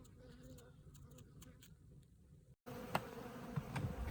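Honey bees buzz around an open hive, a faint, wavering drone with individual insects passing close, growing louder and busier toward the end.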